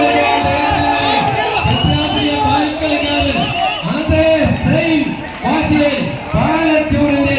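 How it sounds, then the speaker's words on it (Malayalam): Crowd cheering and clapping at a tug-of-war contest, a loud, continuous din of shouts and whoops with voices calling out over it throughout. "കൈയടിച്ച് സ്വീകരിക്കൂ."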